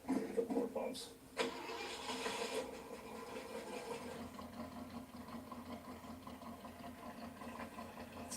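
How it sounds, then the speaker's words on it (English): An old car with dual exhaust cranks and catches, then settles into a steady running idle, close and fairly loud, with brief voices over the start. "I got to hear the car run for the first time"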